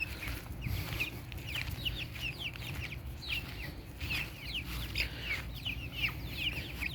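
Several chickens in a chicken tractor cluck and murmur steadily nearby over a low outdoor rumble, with soft overlapping calls throughout.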